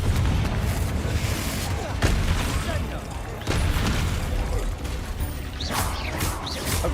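Repeated Confringo blast spells erupt in the Hogwarts Legacy video game as heavy booming impacts over a constant rumbling combat din, with several distinct hits spread across the stretch and a voice speaking underneath.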